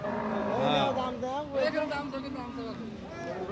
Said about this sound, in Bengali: দেখতে পাচ্ছেন কি পরিমাণ গরু আসে এই চৌগাছাটে।